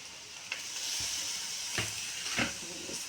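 Curry leaves, chicken masala and chili powder fry in hot oil in a pan for spicy egg rice, giving a steady close hiss of sizzling broken by a few brief stirring scrapes.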